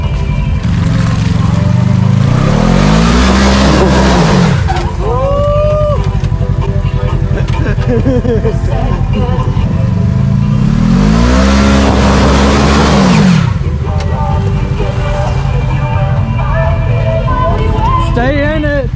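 Off-road Yamaha UTVs revving hard and accelerating uphill on a trail, loud engine roars that rise and fall in two big surges, close by and dominant, with people shouting over the noise.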